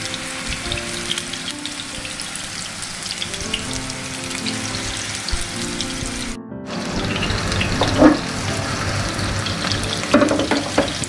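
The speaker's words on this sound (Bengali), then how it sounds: "চুলার ফ্লেমটা একটু আস্তে দিয়েছি খুব আস্তে আস্তে ধীরে ধীরে এটা ফ্রাই করতে হবে" Chapli kabab frying slowly on a low flame in Old Dhaka style, a steady close sizzle and crackle of oil that runs throughout, briefly cut off midway, with occasional louder pops and stirring scrapes.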